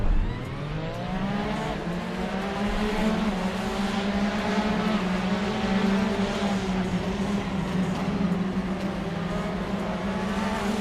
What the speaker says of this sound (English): Here we go. Brands Hatch, Porsche RSR. 15 minutes, go.